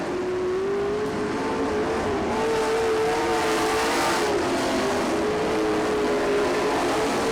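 Race cars running wheel to wheel on the last lap into turn 1, a sustained engine drone with a steady pitched whine from fairly close, loud and without a break.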